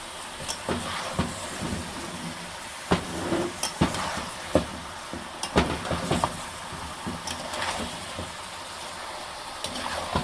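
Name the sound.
jackfruit and chicken curry being sautéed in a pan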